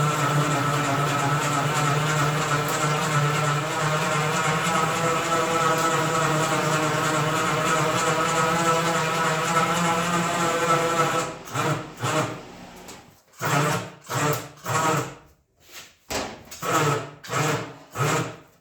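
A Cut & Butt cutting wheel slices through a car's trunk floor panel, a steady loud grinding whine for about eleven seconds, then a series of short cutting bursts with brief pauses between them.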